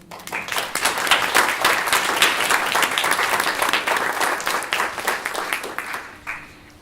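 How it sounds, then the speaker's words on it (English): An audience at a community-led housing network launch breaks into a round of applause, a dense, steady wash of many clapping hands that holds for several seconds before tapering off near the end. "give them a round of applause"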